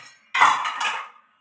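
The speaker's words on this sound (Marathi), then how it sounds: "सगळ्यात अगोदर मी भांडी तरी साईडला काढून घेते" Cooking pots and utensils being moved aside, a single brief clattering jangle of metal dishes, close and fairly loud, with no talking.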